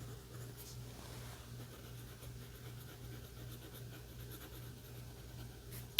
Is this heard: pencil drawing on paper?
yes